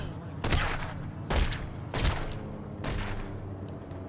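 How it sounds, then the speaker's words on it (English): Bursts of gunfire in a mafia video game, four heavy volleys spaced about a second apart, loud and booming, with no talk over them. "Who the hell's shooting at me?"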